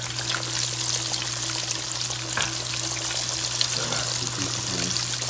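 Chicken tenders fry two pieces at a time in hot oil, giving a steady, dense sizzle and crackle that runs unbroken at close range under a low constant hum.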